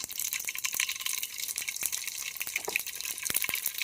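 Cumin seeds land in hot oil already crackling with mustard seeds, giving a continuous bright sizzle dotted with frequent sharp pops and spits, close and without voices.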